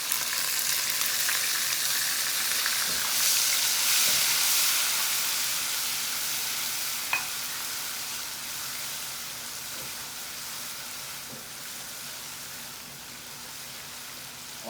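Chili paste for fish biryani fries on medium-high heat with a steady, hissing sizzle that stays fairly constant and slowly fades a little, with faint occasional taps of stirring.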